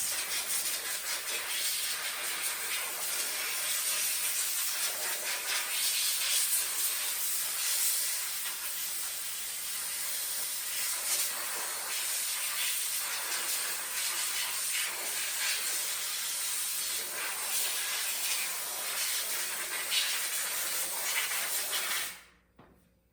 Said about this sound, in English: I've got nice, dry, clean, compressed air that's filtered too